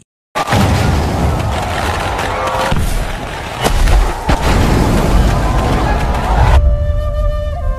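Firecrackers and booms go off in a dense, chaotic barrage as a fireworks warehouse burns near a theater stage, with sharp louder cracks standing out, then give way to music at the end.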